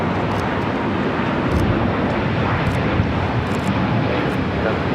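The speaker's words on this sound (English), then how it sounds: "This is China Airlines Flight 5 taking off to Taipei on the A350-900." China Airlines Airbus A350-900 taking off from LAX for Taipei, a continuous heavy jet rumble with a deep low end, steady and fairly loud, with faint speech in the background.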